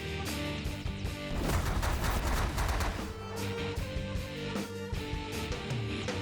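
Ship weapons fire in rapid, dense bursts during a space battle in The Last Federation, crackling and booming continuously over a bed of game music and effects with no voice.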